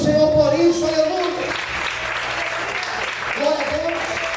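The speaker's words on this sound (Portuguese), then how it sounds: "Você pode aplaudir o Senhor por isso" A church congregation breaks into sustained applause, a dense wash of clapping filling the room while a voice speaks over it at the start and again near the end.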